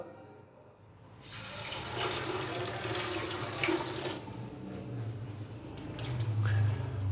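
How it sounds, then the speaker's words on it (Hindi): Water runs steadily from a tap into a cooking pot of lentils for tarka daal, a continuous close splashing stream with no talk over it. "सबसे एंड में मैं इसके अंदर डालूंगा पानी"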